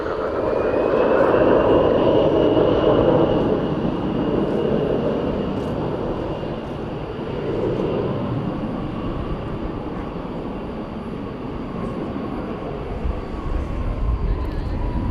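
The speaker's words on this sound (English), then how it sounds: "That's American Flight 1011 off to San Diego, an Airbus A321." An American Airlines Airbus A321 takes off at night from DFW Airport, its engines a loud, sustained roar with a rising whine that fills the whole stretch and stays close and steady throughout.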